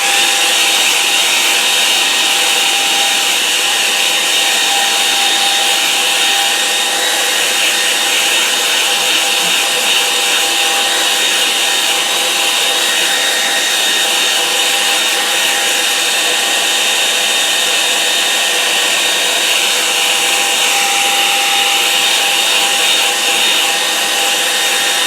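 A hair dryer blowing on a wet watercolour line-and-wash painting of a flooded field, a steady, loud, close airy whine that runs unbroken from start to finish with no voices.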